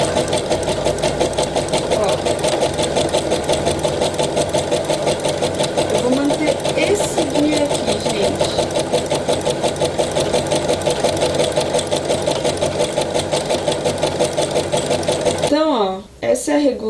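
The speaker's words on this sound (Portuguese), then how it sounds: "E aí, vou começar a costurar," A sewing machine running steadily, stitching a zigzag overlock-type stitch into fabric that frays at the edge, a continuous loud mechanical whir that stops abruptly near the end.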